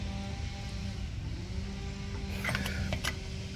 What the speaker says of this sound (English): Push the caliper in.